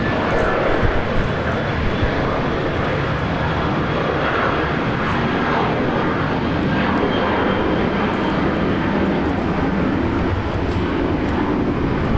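A Jetstar airliner takes off at Brisbane Airport, its jet engines giving a loud, steady, broadband roar that holds for the whole span without a break.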